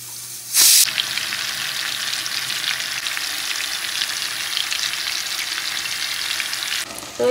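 Chicken hits butter in a hot pan with a sudden loud burst, then settles into a steady, close sizzle and crackle that runs on until a brief clatter at the end, no one speaking.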